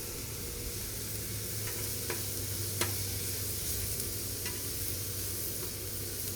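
Onions and sausage sizzle together in a pan, a steady close hiss of frying fat broken by a few sharp clicks and taps of stirring, with no talking.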